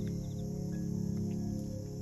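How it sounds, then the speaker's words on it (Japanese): Insects chirr steadily in a continuous, quiet drone over farmland in Furano on an autumn evening near sunset. Faint bird calls can be heard in the background. "虫や鳥の鳴き声、"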